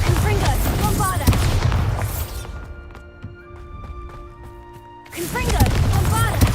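Bombarda and Confringo spell blasts from a Harry Potter video game boom loudly at the start and end, with a quieter ringing tonal stretch between, mixed with voices.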